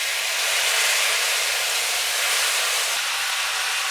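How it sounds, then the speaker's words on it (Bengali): Crushed elephant apple frying in hot oil for a sweet-sour pickle, giving a steady, even sizzling hiss throughout with no pauses or voices. "এখন তেলের সঙ্গে চালতাগুলোকে একটু হালকা করে ভেজে নিতে হবে।"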